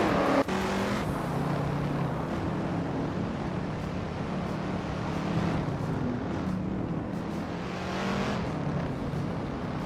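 A 1965 Ford Mustang racing in a video game, its engine roaring as a steady, dense drone with other cars' engines mixed in, continuous and loud throughout with no talk.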